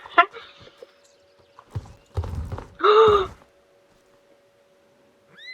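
Horses walking outdoors, with a few close hoof knocks and thuds mixed with a short whinny-like call, breaking up long quiet stretches over a faint steady hum.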